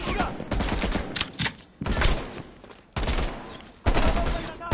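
Heavy machine gun fire in Call of Duty Black Ops Cold War, loud sustained bursts broken by short gaps, with battle shouts mixed in.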